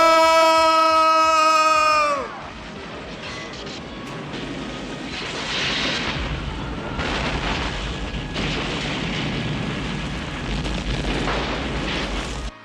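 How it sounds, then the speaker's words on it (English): After a sustained musical tone cuts off, rumbling blasts and crackling booms roll on continuously, heavy and cinematic, with swelling bursts. "look at all these unnecessary explosions"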